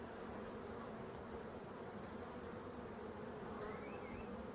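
Honeybees buzz on a hive frame in spring, a dense, steady droning swarm close by that continues without pause throughout.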